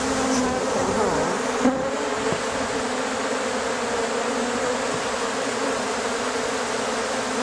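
Dense honeybee swarm buzzing continuously during a swarm removal, a full, steady drone with individual bees passing near the microphone now and then, no voices.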